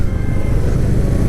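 Heavy road traffic with motorcycles and cars, a loud, dense, continuous rumble of engines close by, filling the moment without any speech.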